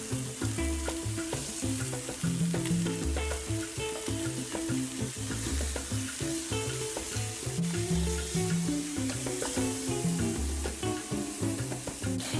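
Pork chops browning on medium-high heat in a hot pan for Italian osso buco-style chops, giving a steady, dense sizzle with a constant crackle throughout and no voices.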